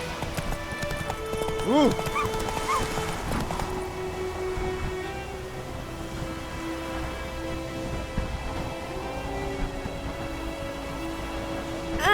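The horse Roach trots in The Witcher 3, hooves clip-clopping in a steady rhythm over a bed of rain, with a short vocal exclamation early on.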